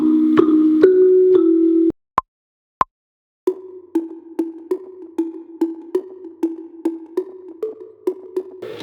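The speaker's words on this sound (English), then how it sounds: "The next thing I added was a mallet." A synthesized mallet marimba plays a bright melody of short, plucky notes for a tropical reggaeton mashup. A brief gap with two isolated pings interrupts a steady run of evenly spaced hits.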